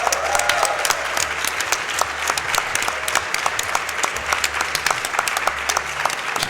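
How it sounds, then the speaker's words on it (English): At a live speedrunning marathon event, a crowd gives sustained, steady applause, dense clapping throughout at an even, loud level with a low hum underneath. "Let's just give a round of applause again for just completing that run in general."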